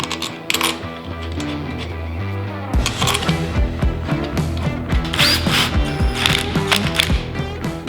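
Ratchet clicking during installation of ape hanger handlebars on a Harley-Davidson Dyna, repeated rapid pawl clicks in bursts, close and fairly loud, with a steady low hum running underneath.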